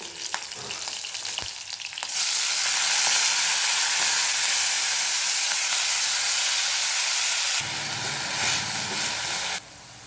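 Vegetables hit hot oil already seasoned with chilli and garlic, bursting into a loud, steady sizzle that holds for several seconds, then drops slightly and cuts back near the end, with no one talking.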